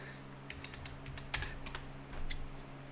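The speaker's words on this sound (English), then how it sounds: "Let me just type it" Rapid keystrokes on a computer keyboard come close and clear, a quick irregular run of clicks over a low electrical hum, with no voices.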